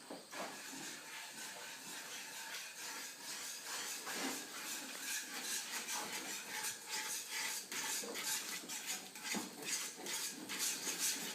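Butter and heavy cream stirred into polenta in a pot, a steady hissing, wet scraping with frequent clicks of a utensil against the pot, close and moderately quiet, no talking.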